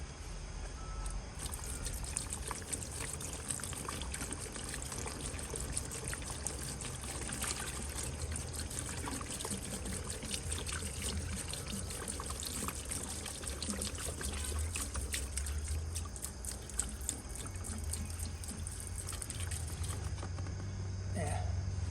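Antifreeze pours from a gallon jug into water lines. A steady trickling, gurgling flow runs throughout, with a few faint knocks along the way.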